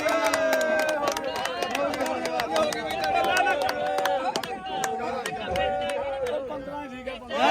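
Crowd clapping to seal a goat deal at the Monday goat market in Lehra Bega: scattered, irregular claps ring out over dense, busy crowd chatter and voices.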